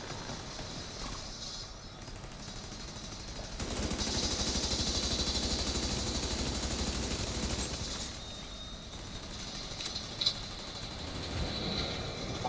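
Sustained automatic turret gunfire from a video game firefight in The Division 2, a dense rattling burst that swells loud for several seconds mid-clip before easing back into steady background shooting.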